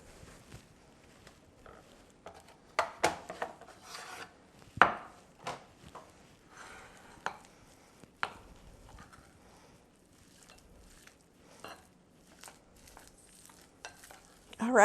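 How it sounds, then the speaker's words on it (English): Cream cheese and crab meat being mixed by hand in a bowl for crab rangoon dip, heard as scattered soft scrapes and thumps of a utensil with quiet pauses between strokes, fairly close and moderate in level. "And then we're gonna mix this up."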